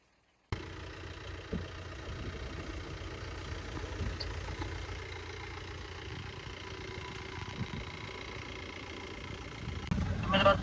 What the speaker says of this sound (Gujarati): ટ્રેક્ટર આવી ગયું છે. જોઈએ શું થાય છે. હવે નીકળે છે કે નહીં ગાડી.